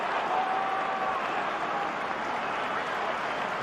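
A stadium crowd at a Watford v Burnley Championship football match applauds and murmurs in a steady, broad roar, with a commentator talking over it.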